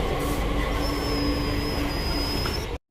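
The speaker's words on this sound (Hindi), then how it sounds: "लो जी भाइयों, तो अपने मेट्रो आ चुकी है" A Delhi Metro train pulls into the station with a loud, steady rumble and a thin high wheel squeal, then the sound cuts off abruptly.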